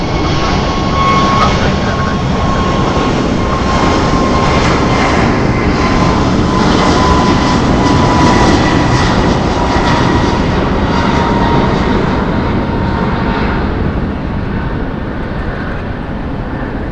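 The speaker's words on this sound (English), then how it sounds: "That departing air was American Airlines 2059 going to Boston, Airbus A321." An American Airlines Airbus A321 jet departing Phoenix Sky Harbor Airport gives a loud, steady engine roar that stays close and sustained throughout, easing slightly toward the end.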